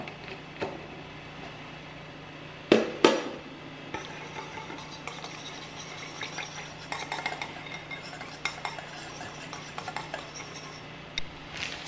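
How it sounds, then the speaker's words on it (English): Soy sauce mixture whisked in a bowl, giving steady soft scraping and clinking of the whisk against the bowl, with a couple of sharper knocks partway through. "So we're gonna whisk this together."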